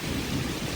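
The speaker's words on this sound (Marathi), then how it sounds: "विजा पण पडतायत, एकदम डेंजर काम आहे." A brief, loud crack and rumble of thunder during a heavy rainstorm with strong wind and lightning, heard close over a steady roar of rain.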